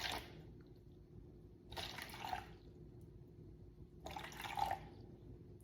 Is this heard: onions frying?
no